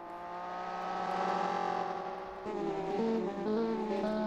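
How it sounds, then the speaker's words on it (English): A racing car engine in a 2007-era sim racing game, holding a loud sustained whining drone that rises, drops abruptly, then climbs again in stepped gear changes, with no talk. "Lone Wolf, your car sounds awful."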